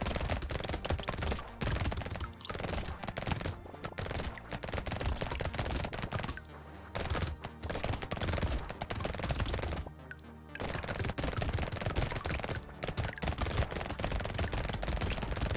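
Purple SMG fire in Brotato, a relentless close stream of rapid shots that runs almost nonstop for about fifteen seconds, with only a few brief gaps.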